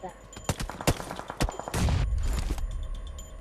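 Rapid gunshots crack out in quick bursts during a PUBG Mobile match, close and sharp, followed by a louder rumbling burst of fire near the end, with players talking.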